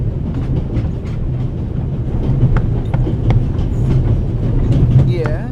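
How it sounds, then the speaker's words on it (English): Train rattling steadily along aboard the Orient Express in an adventure game, a continuous low rumble with faint clicks and creaks, with voices talking over it. "The noise on this train is driving me crazy."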